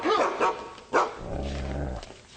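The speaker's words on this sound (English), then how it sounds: "His name is Diefenbaker. He's half wolf." A half-wolf dog barks sharply several times, then lets out a low, sustained growl, close and loud.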